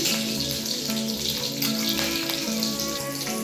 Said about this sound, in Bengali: ফোড়নটা হালকা ভাজা হয়ে গেছে, এর মধ্যে 2 কাঁচা লঙ্কাও